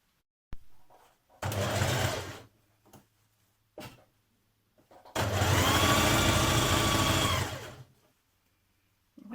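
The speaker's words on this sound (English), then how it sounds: "then stitch around the armhole with 1 centimetre deep hem" A sewing machine stitches a one-centimetre hem around the armhole of a summer dress, running in two close bursts, a short one and then a longer steady run, with faint clicks between and no talk.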